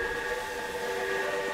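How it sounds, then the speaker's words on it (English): Great Northern Railroad passenger train in the Cascade Mountains of Washington, a steady low rumble with sustained tonal whine overhead, moderately loud and continuous throughout, no voices. "a Great Northern Railroad passenger train, is followed by number 27, Great Northern's fast mail train."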